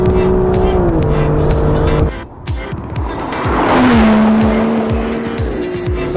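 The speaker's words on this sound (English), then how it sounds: "I find it quite therapeutic when I sit down in the Aston and have no music on and just listen to the engine" An Aston Martin DB11 engine runs loud and close, its steady drone shifting pitch through gear changes, with a brief dip before the revs swell again and settle.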